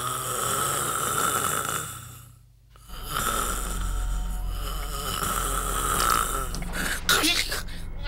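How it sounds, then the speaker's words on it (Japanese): A loud snore from someone dozing in a Japanese tokusatsu TV episode, a rough rasping rumble that repeats with a brief gap, heard over soundtrack music and background noise. "そんな大きないびきかいて居眠りすることないでしょ"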